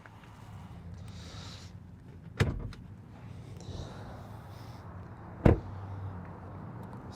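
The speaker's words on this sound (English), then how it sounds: "Sound of the doors to note there." Doors of a 2020 Chevrolet Bolt EV Premier being shut, two separate solid thuds a few seconds apart over a low steady background hum, close by, with faint handling noises between them.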